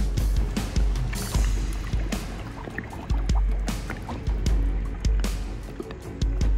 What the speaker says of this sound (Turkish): Evet dostlar, bataryamızı suya atıyoruz.